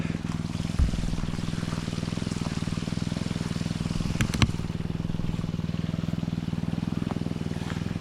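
A gold prospecting high banker's small engine runs steadily at idle while water flows through the sluice, a constant loud throbbing hum with trickling water.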